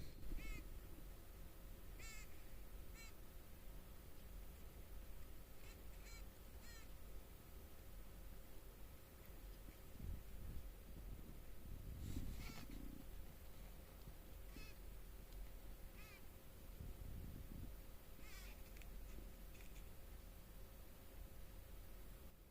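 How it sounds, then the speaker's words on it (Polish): Faint, repeated short quacking pulses from a queen honeybee, heard over a steady low buzzing hum of the hive. "tak zwany kwok to się chyba nazywa, matki pszczelej"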